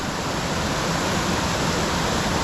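Small waterfall on a brook trout stream, a steady broadband rush of falling water that stays loud and close and even throughout, with no voices over it.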